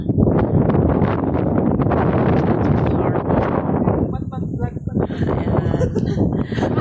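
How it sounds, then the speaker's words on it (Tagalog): Strong wind buffets a microphone outdoors under a wide cloudy sky, a loud, continuous rumbling gusting roar filling the whole stretch, with voices talking faintly beneath it. "It's windy but it's very nice"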